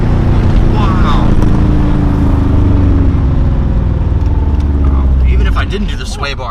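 A Subaru GC8 with a test pipe accelerates, its exhaust a loud, rumbling, continuous drone with rising engine tones heard from inside the car, while people talk over it and it eases off near the end.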